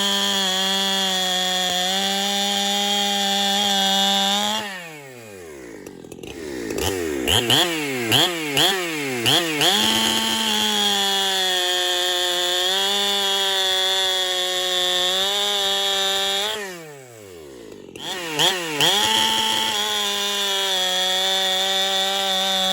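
A chainsaw fitted with a Stihl Hexa chain runs loud and close, bogging down through two cuts into wood with wavering engine pitch between steady high revving.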